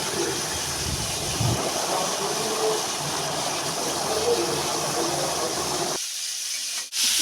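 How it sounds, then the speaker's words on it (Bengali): Cauliflower fries in a pan with a steady, close hiss and sizzle that stops abruptly near the end, followed by a brief clunk. "দেখো মা এখানে ফুলকপিগুলিকে ভেজে নিচ্ছে"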